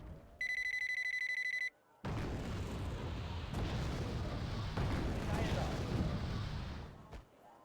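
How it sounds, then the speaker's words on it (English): An M41 tank fires in a video game amid a sustained barrage of heavy booming blasts and rumbling explosions, preceded by a brief ringing electronic tone. "That's an M41 shooting."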